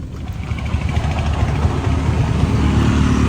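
Motorcycle engine running steadily at the start of a bike journey, a continuous low rumble close by with no talk.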